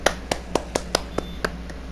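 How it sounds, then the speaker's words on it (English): Hands clap in a steady rhythm, about eight sharp claps over two seconds, close and fairly loud, with no talking over them. "clap it up, clap it up."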